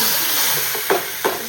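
A hot tempering with asafoetida and curry leaves is poured into dal. A steady hiss is broken by two short, sharp sizzle bursts near the end. The sound is close, with no one talking.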